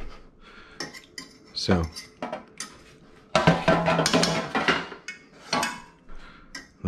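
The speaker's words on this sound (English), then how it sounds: "let me pull out these chunks of pork" Chunks of pork for carnitas lifted out of a pot with a utensil, sharp metallic clinks and scrapes against cookware in irregular bursts, with a few words spoken.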